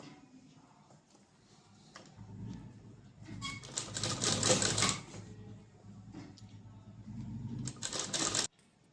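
A sewing machine stitching a blouse seam half an inch from the edge, running in two close, loud bursts of fast rhythmic clatter with quieter handling between them.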